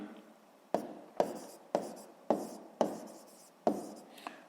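Pen strokes on paper while working out a sixth-grade math solution: six distinct scratchy strokes at a steady pace, close and fairly quiet, with no talking.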